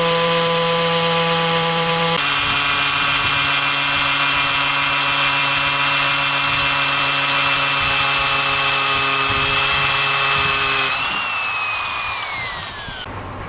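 Loud, steady whine of an electric drill boring through steel, with the pitch shifting partway through and dropping as the bit pushes through near the end.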